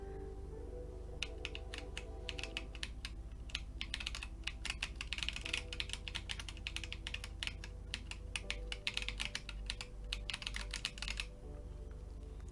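Steady, fairly quiet typing on a Drop CTRL custom mechanical keyboard, a continuous run of key clicks with a low hum underneath and no voices.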